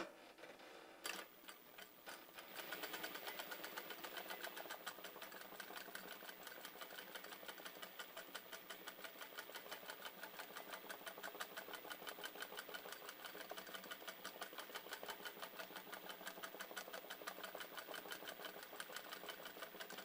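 A sewing machine embroidering a figure with red and brown thread hums in a fast, even, rhythmic stitching drone that starts after a brief click and runs steadily, close but quiet, with no voices.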